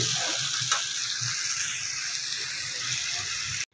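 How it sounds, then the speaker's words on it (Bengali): Potato dum cooks down in a pan with ginger, tomato and ground cumin, a constant close frying hiss with soft stirring knocks underneath, then a sudden cutoff. "দেখো আলুর দমটা আমি কষাচ্ছি, কিছুই না, শুধু আদা টমেটো আর জিরে গুঁড়ো দিয়ে মশলা দিয়ে কষাচ্ছি"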